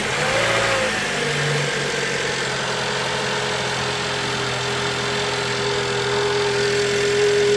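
A Volkswagen Passat B7 with a 1.8T engine and ECS air intake runs close by, a loud steady idle hum with a faint rising whine and no clear revs.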